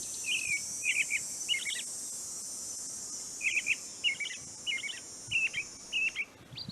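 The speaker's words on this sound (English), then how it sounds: "American robin." American robin call from the Nancy Drew video game: a series of short, clear chirping phrases in two bursts, repeated several times over a steady hiss, with no talk.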